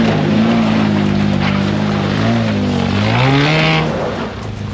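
A loud, damaged Nissan Patrol engine with a knock runs steadily and revs up and down, its pitch rising and falling with a rough, labored tone; no voices.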